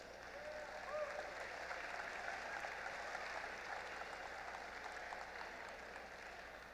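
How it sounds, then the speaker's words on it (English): At a FIRST robotics youth event, an audience gives the volunteers a round of applause, a distant, faint but steady wash of many hands clapping that holds for several seconds with a slight crowd murmur. "So big round of applause for our volunteers."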